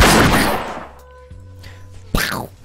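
Jhin's gun fires in League of Legends: a loud, sharp blast decays into a ringing metallic tail, then a second crisp shot cracks near the end, both close and with no talk over them.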